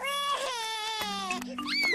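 A cartoon piglet from Peppa Pig wails in a long, tonal, wavering cry, loud and close, with a brief dip before the crying rises again.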